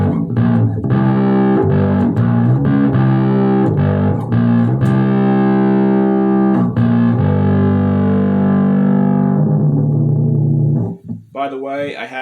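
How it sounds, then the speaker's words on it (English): Fuzzy, heavily distorted bass riff played near the bridge through a Big Muff pedal into a 25-watt Fender Rumble bass amp, loud sustained notes with rhythmic re-attacks, ending abruptly with a few fingered plucks. "I have a big muff for the distortion, and this is a 25-watt Rumble Fender bass amp"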